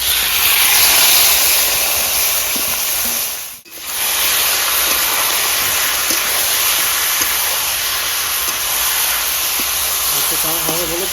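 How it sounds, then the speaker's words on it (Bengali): Marinated chicken goes into hot oil for a village-style winter chicken curry, giving a loud, broad, steady hiss that dips briefly once and then carries on unbroken. "এবার এখানে দিয়ে দেবো ম্যারিনেশন করা মাংসটা।"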